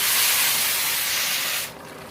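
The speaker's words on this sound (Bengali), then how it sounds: "কড়াই ধোয়া জলটা দিয়ে দিচ্ছি" Washing water poured into a hot wok while cooking spinach-stem chorchori gives a loud, steady sizzling hiss of steam that drops off sharply near the end.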